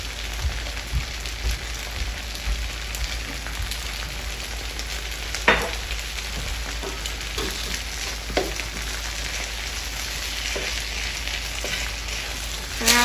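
Vegetables sizzle steadily in a hot frying pan for a stir fry, a continuous crackling hiss broken by a few louder clacks and scrapes of stirring.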